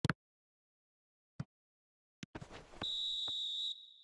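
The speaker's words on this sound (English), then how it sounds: "And the whistle goes for half-time." A referee's whistle at a football match blows one sustained shrill blast for half-time, following a few sharp knocks and a brief burst of broadband crowd noise.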